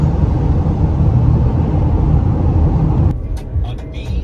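A car drives steadily along a road, a continuous near rumble of engine and tyre noise that drops away and softens near the end while faint voices and background sounds come through.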